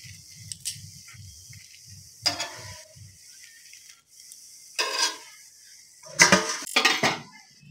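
A plain semolina dosa lifted off a pan with a metal spatula: a few sharp scraping clinks and rattles of utensil on the pan, spaced out over a low rhythmic background hum, close and fairly loud, no talking.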